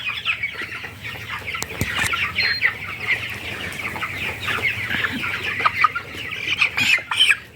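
Broiler chickens on a poultry farm cluck close and loud as a bird is set on a scale to be weighed, their chatter continuous with scattered sharper squawks and rustles.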